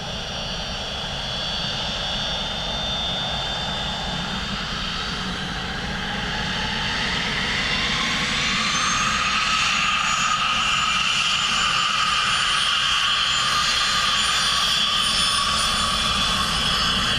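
A jet airliner lands on runway 28 left at Dublin Airport in low visibility, its engine roar swelling steadily louder and nearer across the whole stretch, with no talk.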